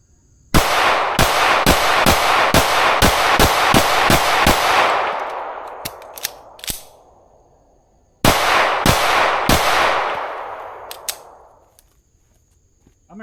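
Rapid strings of pistol gunshots from a Staccato C2 fitted with a Monsoon Tactical Genghis compensator at 5 yards: about twelve sharp, loud reports in quick succession with ringing decay, then a pause and a second burst of about six shots.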